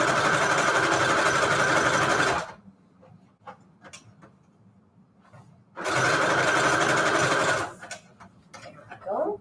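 Sewing machine stitching fabric and lace scraps for manila tags, two loud, fast runs of several seconds each, close, separated by a quiet pause with small clicks and handling sounds.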